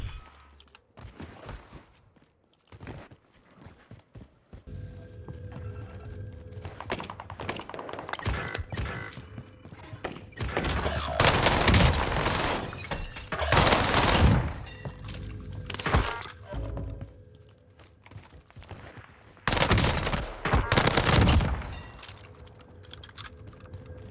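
Bursts of gunfire and breaking-glass impacts from a Call of Duty Rebirth Island battle royale match, loud clusters of shots in the middle and near the end over steady game ambience and scattered footsteps.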